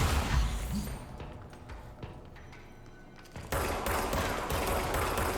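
Gunfire during combat in the video game Control: loud bursts of shots at the start, then a quieter stretch of scattered pops, and a sudden renewed loud barrage near the end, with no talk.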